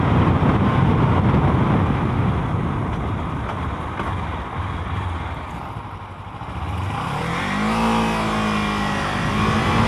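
A 2015 Kawasaki Ninja 300 motorcycle engine roars loud and close under wind rush while being ridden, easing off briefly and then rising again as the revs climb.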